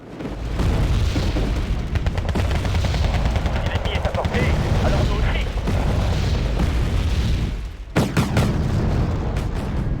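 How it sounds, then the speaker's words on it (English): Continuous battlefield barrage in the real-time strategy game Wargame: Red Dragon, North Korean artillery fire with booming impacts and rattling shots, dense and loud throughout, a brief lull before sharp cracks near the end. "North Korean artillery everywhere"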